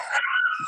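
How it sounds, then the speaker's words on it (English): Dogs whine for lasagna, giving a short, high, close-up whimper that rises and holds for under a second, loud and clear with no talking over it. "dogs want the lasagna."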